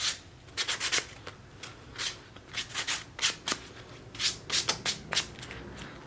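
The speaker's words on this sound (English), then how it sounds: "we will go ahead and touch up with the sandpaper again, so we'll re-sand it just to kind of clean up any of the loose burrs." Hand sanding of a leather wallet edge with sandpaper to clean up loose burrs, a series of quick, soft scratchy strokes in irregular bursts, close and quiet with no talking.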